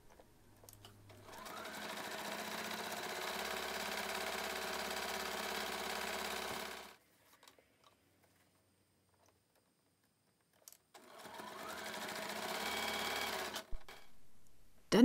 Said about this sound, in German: nähst du nun einmal den Stoff auf das Vlies